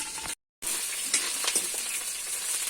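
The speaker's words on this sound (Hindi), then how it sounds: "ये दे लहसुन अदरक प्याज के पेस्ट है हुआ और ये हरे फोरन डालबो हम मीठा नीम" A garlic, ginger and onion paste with curry leaves sizzles in a pan, a steady close frying hiss with small crackles and stirring scrapes, interrupted by a brief silent gap.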